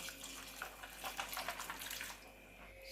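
Water pouring steadily from a tap onto soybeans in a bowl for soaking, a continuous close splashing rush for about three seconds.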